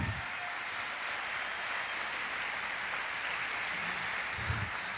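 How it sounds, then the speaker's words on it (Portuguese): A church congregation applauds for Jesus during a sermon, a steady, dense wash of clapping that fills the whole stretch at an even level with no voices over it. "Se você recebe isso, dê para Jesus uma forte salva de palmas."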